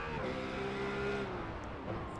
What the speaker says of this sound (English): That's 2 RUF cars there.